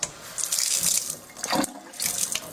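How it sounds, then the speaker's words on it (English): A tap is turned on and water gushes into a sink in loud hissing bursts, briefly cutting out and restarting, close by with no talking. "And I'm going to turn the tap on."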